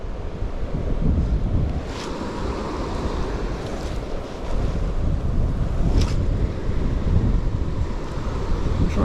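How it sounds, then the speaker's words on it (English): Strong wind gusting beside a high country river, a loud continuous rushing roar with buffeting bursts against the microphone. "Oh, that wind."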